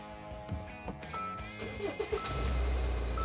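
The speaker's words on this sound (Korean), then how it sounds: "일발 시동 들어오고요" A Hyundai Santa Fe DM engine cranks and catches on the first try near the end, settling into a low, steady idle rumble after some lighter interior clicks and tones.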